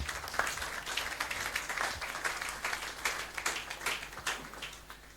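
A church congregation claps together during a worship service, a steady, dense wash of applause that stays level throughout without a break.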